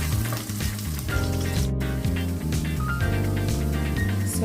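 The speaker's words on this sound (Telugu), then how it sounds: "సో ఇప్పుడు క్యారెట్ పీసెస్ కూడా వేసుకొని బాగా ఫ్రై చేసుకున్నాం 2 minutes." Carrot pieces fry in a pan with potato for vegetable fried rice, a steady sizzle running throughout. A loud, rhythmic low mechanical hum and thump sits over it, and no one talks.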